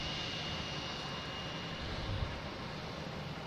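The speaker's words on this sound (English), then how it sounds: "Next coming in is a JetBlue Aviation" A JetBlue jet comes in to land at Boston Logan airport, a steady, broad engine roar holding at a moderate distance for a few seconds without talk.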